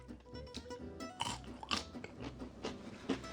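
Crunchy, piping-hot french fries with sauce bitten and chewed up close, a quick run of crisp crunches and smacking chews with no talking.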